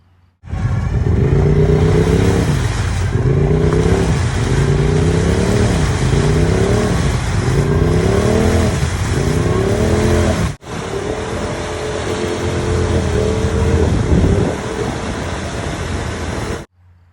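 A 2021 Polaris RZR Pro XP off-road vehicle revs hard through mud on 32-inch tires, loud and close, with repeated rising engine surges, a sudden cut around ten seconds, then more sustained roaring.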